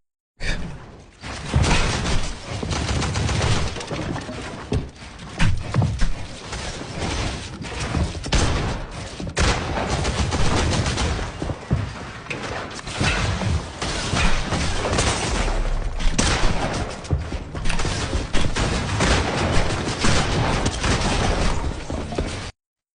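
Gunfire and building clatter in a competitive solo cash cup video game fight, dense continuous bursts of shots, impacts and whooshes layered loudly for the whole stretch, no voice.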